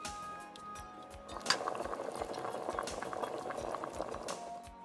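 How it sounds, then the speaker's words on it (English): Chicken stock for soup comes to a boil in a pot, a steady bubbling and rolling simmer that swells after the first second and carries on with light clinks and drips, close by with no talking. "bring this up to a boil and then simmer for about 30 minutes"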